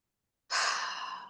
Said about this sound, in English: Take a deep breath as you close your eyes.